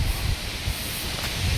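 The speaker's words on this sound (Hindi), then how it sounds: "देखो मस्त हवा चल रही है अभी" Wind blowing outdoors on a house rooftop: a steady, moderately loud rush with low buffeting gusts on the microphone, and no voices.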